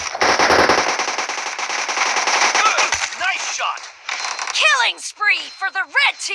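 Rapid bursts of automatic gunfire from PUBG Mobile rattle loudly for about three seconds, followed by scattered shots and ricochet-like zips, with a player's voice talking over parts of it.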